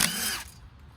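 A power drill whirs at a steady high pitch, then stops abruptly about halfway through, leaving a faint low hum.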